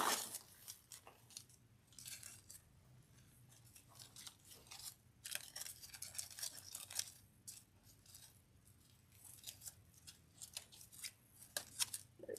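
Scissors snipping through wreath-making material for a lemon-themed everyday wreath kit, close and crisp, in irregular bursts of cuts with quiet pauses between them and no talk.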